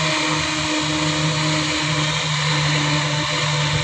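An upgraded USB fan running at high speed gives a steady, dense whirring hum with a droning motor tone, constant and close throughout with no speech.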